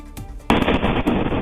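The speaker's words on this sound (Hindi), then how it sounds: "आग लगने से फैक्ट्री में एक के बाद एक कई जोरदार धमाके हुए" Loud explosions at a burning fireball (firework) warehouse in an industrial area, a sudden sharp blast followed by a dense, sustained crackling barrage of rapid bangs, close and continuous.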